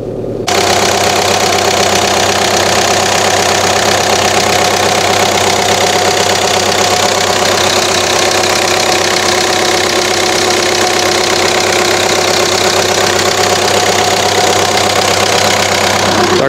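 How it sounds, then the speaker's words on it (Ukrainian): A Skoda Fabia engine idles under the open hood, a loud, steady, close mechanical hum with an even ticking knock running throughout without change. "Мотор працює ідеально."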